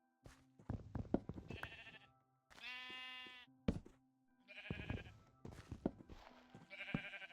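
Several loud, close video game sheep bleats come in short bursts separated by brief pauses, with no talking in between.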